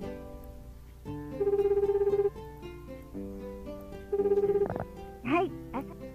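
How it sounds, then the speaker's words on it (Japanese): A telephone call in the video game Tokimeki Memorial 2: two pulsing ring tones sound over game music, followed by a short rising voice-like blip, with someone talking faintly underneath. "とりあえずお姉ちゃんに電話してと。"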